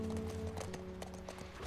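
A ridden horse's hooves clip-clop at a steady trotting rhythm across an outdoor nature setting in The Last of Us Part I, close and continuous over low ambient background.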